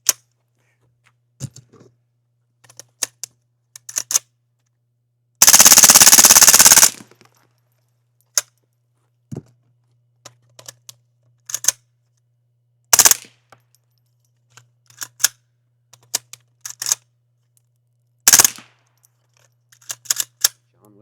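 Gunfire through a 3D printed suppressor outdoors: sharp, separate reports spaced irregularly across the stretch, plus one long dense burst of noise early on, each crack loud and close against near silence.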